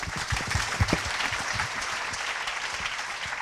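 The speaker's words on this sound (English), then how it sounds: "Let's give them a big round of applause." A pitch-competition audience breaks into steady, dense applause that fills the room at an even level for the whole stretch, with no voices rising above it.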